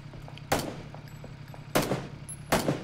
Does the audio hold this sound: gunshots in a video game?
yes